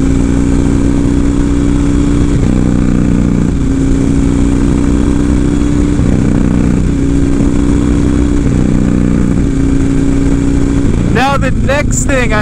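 A Harley-Davidson Dyna with a Clubstyle East Coast FXRT fairing is ridden. Its engine drones loud and steady throughout, with gear-like shifts in pitch and wind rush, and a voice speaks over it.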